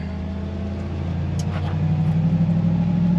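A Ford F100 pickup truck with a three-pedal manual gearbox pulls away, its engine a steady low rumble from inside the cab that rises slightly as it gets moving.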